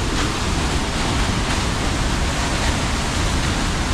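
A powerful waterfall at Edessa thunders as a dense, steady broadband rush, loud and unbroken from about twenty metres away, with no voices over it.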